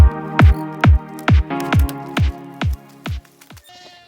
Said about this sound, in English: So we're dumping the water here.